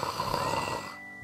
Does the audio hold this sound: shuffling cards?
no